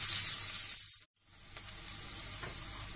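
Onion frying in a pan for chicken adobo, a dense steady sizzle close up that cuts out for a brief moment and then carries on.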